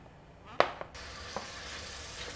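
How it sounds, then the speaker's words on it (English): Vegetables with garlic sauté in a pot, a soft steady sizzle running throughout, broken by a few sharp stirring knocks near the start. "this has been sauteing for a little bit. I'd say about maybe 6-7 minutes, our vegetables here."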